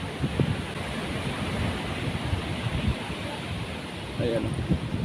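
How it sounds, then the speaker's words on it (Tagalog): Rough surf rolls onto Sabang Beach in Baler, Aurora, a constant broadband wash with wind buffeting the microphone, as someone talks faintly now and then. "kahit kailan talaga medyo maalon-alon po talaga yan"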